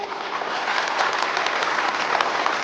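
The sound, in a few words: audience applause at charity auction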